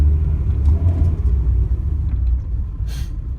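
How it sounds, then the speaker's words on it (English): A 1990 Mazda 323 running a straight pipe with the stock muffler, a deep steady exhaust rumble while driving, close and loud, with a brief higher hiss near the end. "Straight pipe with the stock muffler."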